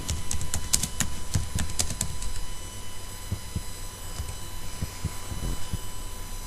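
Java code being typed on a computer keyboard, a quick cluster of crisp key clicks at first, then sparser taps over a faint steady hum.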